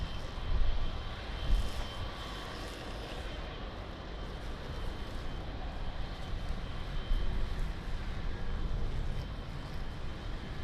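An airliner on final approach to land at Lisbon Airport, its engines a steady distant roar with broadband rumble and hiss throughout, swelling slightly at moments, with no voices.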